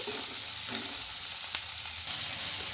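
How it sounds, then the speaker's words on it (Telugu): Onions and tomato pieces frying in a pan for a dosa topping, a dense continuous sizzle with faint stirring scrapes, close and steady. "మనకు టమాటాలు కూడా బాగా సాఫ్ట్గా ఉడికిపోయినాయండి"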